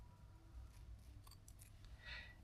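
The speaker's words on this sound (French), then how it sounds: "je donne un autre coup de ciseau, je libère la trame" Scissors snip through the weft of a hair prosthesis (a wig being made smaller): a few quiet, close cutting clicks and a soft slide of blades, faint against a low room hum, with no talking.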